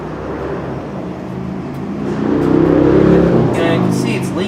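A repaired Maytag 72 single-cylinder engine putters steadily and rises in volume as it runs, its low chugging close by and mixed with people talking.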